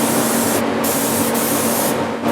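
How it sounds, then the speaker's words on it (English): A spray gun hisses loudly and close while paint is applied by hand to Ovation electric guitars. The spray is continuous with a few brief breaks. "a human being actually does the spraying"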